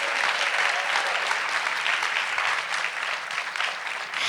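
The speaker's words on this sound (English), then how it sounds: "Give her a round of applause." A crowd claps steadily and enthusiastically, a dense wash of applause sustained throughout at moderate volume with no voices.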